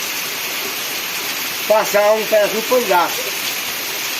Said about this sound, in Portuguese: Olha o tanto de chuva, gente,